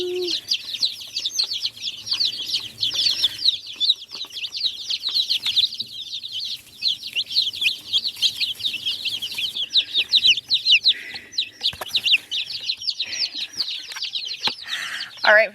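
Thirty-odd baby chicks chirp together in a dense, constant chorus of high peeping, with a few louder calls standing out and soft rustling and movement underneath.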